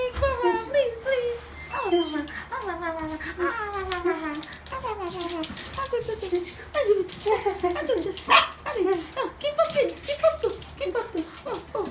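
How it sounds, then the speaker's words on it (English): A dog barks repeatedly in high, excited yips and whines at water flowing down drain pipes, close by, with a steady low hum underneath. "She kept barking when water is flowing down the pipes."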